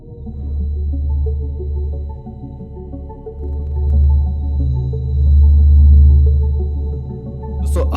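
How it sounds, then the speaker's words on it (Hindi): Sonified solar probe recording of the sun's waves and storms: a steady, droning low hum with layered tonal bands that swell and fade, continuous with no voices. "अभी जो आवाज आप सुन रहे हैं ये सूर्य से निकलने वाले शोर और तूफानों की एक"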